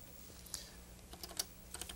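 Keys clatter on a 1983-era computer keyboard in a quiet irregular burst of clicks and taps, faint and close, with no speech over it.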